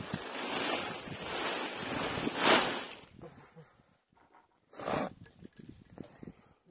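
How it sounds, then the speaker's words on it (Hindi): Sudden rain falling outdoors, heard as a broad steady wash for about three seconds, then trailing off into quieter scattered patter with another brief loud burst. "अचानक से लग गई बारिश।"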